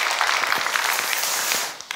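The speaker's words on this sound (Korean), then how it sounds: "여러분 박수하겠습니다" A church congregation at a Wednesday service claps to welcome new members, a bright, even spatter of many hands sustained for about two seconds and tapering slightly at the end.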